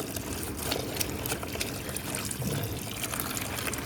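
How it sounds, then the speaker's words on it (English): Cold water steadily overflows a rinsing tub holding a painted t-shirt, a continuous close splashing trickle that runs alone without a break. "we are going to let the cold water overflow in this tub till all the soap and any other color comes out"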